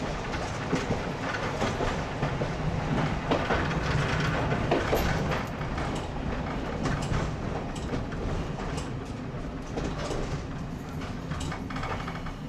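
Electric commuter train on the steep Johnsonville line rumbles by close up, a dense, continuous roar of wheels and carriages with rhythmic clicking over rail joints throughout.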